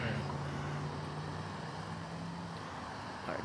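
Cars passing in street traffic heard from a stopped e-bike, a low steady rumble of engines and tyres with a faint whoosh near the end, moderately distant and fairly quiet, no talking.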